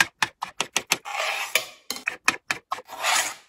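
A knife chops avocado into small pieces on a cutting board in quick, sharp strokes, with two longer scraping passes in between, close and clear.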